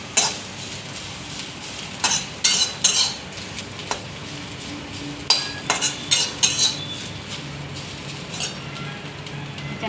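Ridge gourd peels roasting in a pan with chillies, a soft sizzle broken by bursts of metal utensil scraping and clinking against the pan, close and uneven, with no voices.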